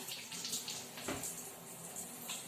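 Running tap water flows steadily during handwashing, a soft continuous splash with slight fluctuations and no talking.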